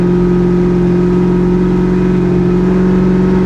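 A 1966 Chevy Impala with a Turbo 400 transmission cruises along, its engine holding a loud, steady low drone with a constant hum and no change in pace.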